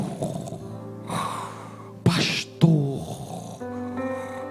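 A preacher imitates a pastor snoring, with drawn-out nasal snore-like breaths and snorts, two sharp loud bursts in the middle, close and voiced throughout.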